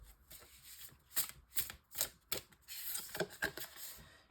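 Angel wisdom oracle cards are shuffled and drawn: a soft, quiet series of papery flicks and snaps, several sharp taps spaced about half a second apart, then a denser riffle-like rustle near the end.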